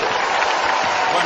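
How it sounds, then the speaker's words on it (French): Sustained crowd applause for a comedian at a live New Year's comedy show, a dense, even wash of clapping filling the whole moment without a break. "applaudissements pour lui."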